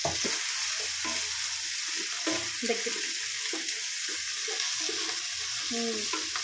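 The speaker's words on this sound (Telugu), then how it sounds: "కొత్తిమీర, పుదీనా మంచిగా ఫ్రై చేసుకుంటే టేస్ట్ చాలా బాగుంటుంది" Coriander, mint and curry leaves frying for egg fried rice, a continuous hissing sizzle with irregular scraping and stirring knocks against the pan, close up and with no talk.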